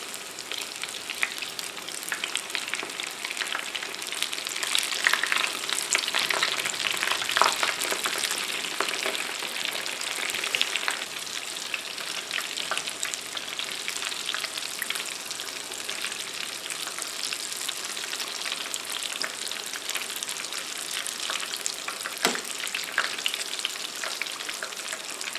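Breaded shrimp frying in hot fat in a pan, a steady close sizzle with crackling pops that carries on without talk for the whole stretch.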